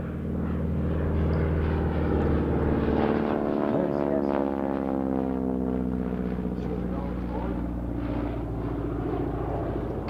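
A propeller airplane, likely a vintage warbird such as an FG-1D Corsair, Catalina or TBM Avenger, drones steadily overhead for the whole stretch, a low throbbing engine hum that swells slightly midway.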